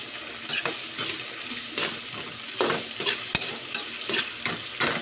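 Vegetables for ginisang gulay sauté in a pan, with repeated rhythmic stirring strokes of a utensil scraping the pan over a soft background sizzle, about eight distinct strokes close to the microphone.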